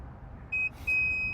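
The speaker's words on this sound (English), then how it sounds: "And you hear that, the car beeps" A Mazda CX-5 gives two short electronic beeps as its power tailgate height is set, the second longer; clear, close tones over a quiet background.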